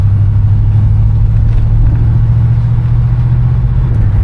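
A 1966 Oldsmobile 98 driving and getting up to speed, giving a steady, loud, low engine rumble with road noise that holds evenly throughout, with no talking.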